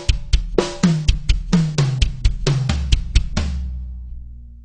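Drum kit sticking pattern alternating mid tom, floor tom and kick drum, a dozen or so close, loud hits in an offset, uneven rhythm, ending with the last drum ringing out.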